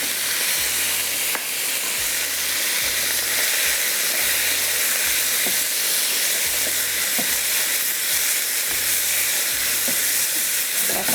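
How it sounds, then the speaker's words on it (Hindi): Chicken frying in oil over a high flame gives a steady, loud sizzle and hiss throughout, with faint periodic clatter beneath and no voices. "ऐसा हाई फ्लेम पे इसको फ्राई करेंगे चिकन को"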